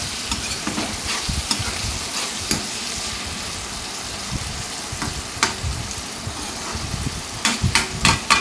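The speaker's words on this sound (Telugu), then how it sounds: "ఈ మొత్తం కూడా ఈ విధంగా ఆయిల్లో ఫ్రై అయ్యే విధంగా 2 నిమిషాల పాటు ఉంచేద్దాము." Three chopped tomatoes frying and sizzling in hot oil in a pan for a brinjal egg tomato curry, a steady loud hiss with occasional stirring clatter.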